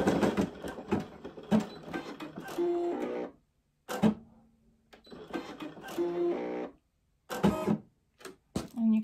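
A Brother PE800 embroidery machine stitches a design onto a T-shirt with rapid mechanical clatter and whirring, in repeated runs broken by short pauses as the needle moves to the next spot, close and steady.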